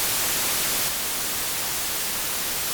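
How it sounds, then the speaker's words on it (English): A stereo white noise synth wavetable hisses as a dense, steady, loud wash of static, slightly dropping in level partway through before cutting off abruptly at the end. "To make a Whitenoise sweep, all we gotta do is first load up a Whitenoise wavetable."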